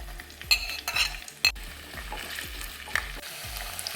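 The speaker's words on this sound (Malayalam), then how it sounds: "ഒരു കഷ്ണം ഇഞ്ചി ഒരു നാല് വെളുത്തുള്ളി നെടുവെ രണ്ട് പച്ചമുളക് ആവശ്യത്തിന് കറിവേപ്പില ഇതെല്ലാം കൂടെ നമുക്കൊന്ന് വഴറ്റാം" Ginger, garlic, green chilies and curry leaves sautéing in a pan under a steady sizzle, with a spatula scraping and stirring in a regular rhythm and a few sharp metallic clinks; no one speaks.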